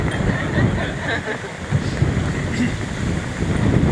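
Wind buffeting a microphone at an outdoor Memorial Day service, a steady, loud rushing roar with gusty swells throughout and no clear voices.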